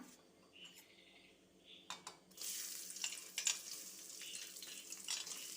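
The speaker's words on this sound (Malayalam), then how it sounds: "ഇത് ഒന്ന് ചൂടായി വന്നിട്ടുണ്ട് ഇതിലേക്ക് നമുക്ക് ആദ്യം തന്നെ ഉള്ളി അരിഞ്ഞതിട്ട് കൊടുക്കണം" Chopped small onions drop into hot oil for a Malabar tamarind curry. After some quiet clinks and faint noises, a bright hiss of frying rises and carries on at a moderate level with occasional crackles.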